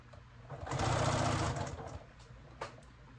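Sewing machine stitching a BBQ-style apron, a fast steady whirring run that rises, holds for about a second, then slows and stops, followed by a brief click as the needle stays down.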